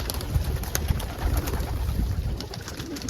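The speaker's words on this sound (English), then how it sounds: "there's a young crested almond Homer cockbird over there" A young crested almond Homer cock pigeon coos close by in soft, repeated throaty phrases outdoors, with faint background noise and no talk.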